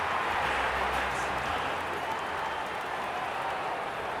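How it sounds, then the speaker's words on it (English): Steady roar of a football crowd at Princes Park for a 1991 Carlton versus West Coast Eagles match, a continuous broad murmur and clapping from a large stadium audience. "The crowd already making plenty of noise as the captains come together."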